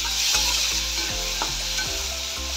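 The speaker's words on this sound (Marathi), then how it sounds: "टमाटा पण आपण छान परतून घेऊया." Tomato and onion sauté in a pan for a capsicum bhaji, with a steady close sizzle and several scraping stirs of the spoon at a loose rhythm.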